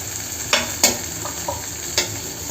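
A little oil added to mashed tomato in a hot pan produces a low, crackling sizzle punctuated by several sharp metallic spoon clinks against the pan, close up and with no talking.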